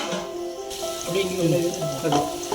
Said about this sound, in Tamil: கொஞ்ச நேரம் நம்ம மூடி வச்சு வதக்கலாம்